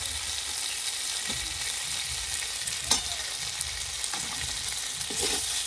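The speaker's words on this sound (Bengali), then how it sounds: "আলু আর আম মশলার সঙ্গে ভালো করে কষিয়ে নেব।" Potatoes and mango saute with spices in a pan, giving a continuous low frying hiss with occasional stirring scrapes and a few faint clinks, close and even, no talk.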